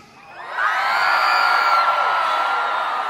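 A large concert crowd at a live show in Leipzig screams and shrieks loudly in a sustained, high-pitched roar that swells and holds for several seconds.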